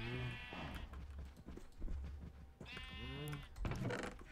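Sheep in a Minecraft-style video game bleat in two separate bursts of wavering, nasal calls, close and clear, with quieter soft thuds and footstep-like clicks between them.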